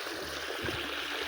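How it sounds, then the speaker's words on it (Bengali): Irrigation water flows into a village field in a steady, close rushing wash with a faint gurgle, unbroken for the whole short moment. "এই যে দেখতে পাচ্ছ জল আসছে"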